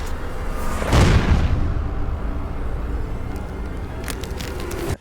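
A breaching charge blows open a tunnel, one loud deep boom hitting about a second in, followed by a long rumbling roar and debris noise that fades slowly over several seconds, outdoors.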